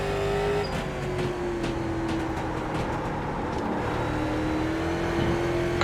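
A late model race car engine on Concord Speedway in the iRacing sim holds a loud, constant full-throttle drone, its pitch sagging slightly and then climbing again, with no voices over it.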